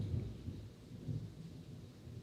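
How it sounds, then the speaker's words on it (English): Low, distant rumble of thunder rolling through a storm, swelling and fading softly over a couple of seconds with faint rain texture, no voices. "Oh, you guys hear that thunder?"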